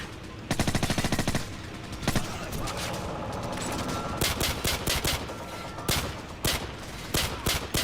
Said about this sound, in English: Automatic fire again.